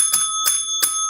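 A small bright bell is struck three times at an even pace, each ring a crisp, ringing metallic ding that decays quickly, close and loud with no talking.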